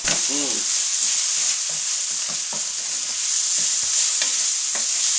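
Onions and garlic sauteing in a pot for a white bean vegetarian chili, a constant loud sizzle with repeated scrapes and taps of a stirring spoon, close up, with a short vocal sound at the start.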